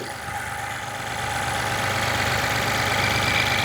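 A Mahindra Quanto SUV engine idles nearby with a steady, even rumble and broadband hum that swells slightly after the first second and then holds constant.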